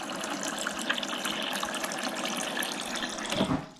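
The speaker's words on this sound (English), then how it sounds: "All I have to do is press this to dispense the water." Water streams from the door dispenser of a stainless steel GE Cafe French door refrigerator, a steady hissing gush that runs for several seconds and then cuts off abruptly, with no talk.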